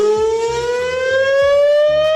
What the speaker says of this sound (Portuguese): Mas, cara, que doideira essa sirene, meu irmão.